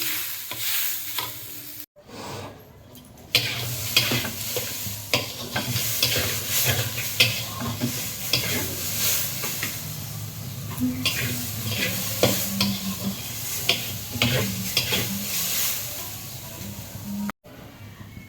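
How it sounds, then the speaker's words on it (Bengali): Mung dal lentils frying in a pan, with a steady sizzle and repeated scraping stir strokes running throughout, close and fairly loud, briefly cutting out near the start and again near the end. "এই যে ডাল ভেজে নিচ্ছি"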